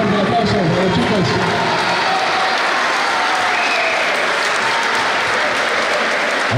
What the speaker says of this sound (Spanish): fuerte aplauso a los chicos